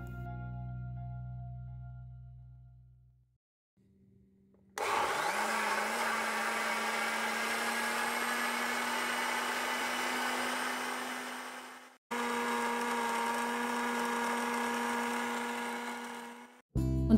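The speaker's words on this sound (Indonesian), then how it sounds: "kita akan blender atau haluskan semua bahan ini hingga tercampur rata" A kitchen blender whirs through pumpkin sticky rice cake batter with coconut milk, running loud and steady in two long bursts separated by a short stop, after a quieter hum at the start.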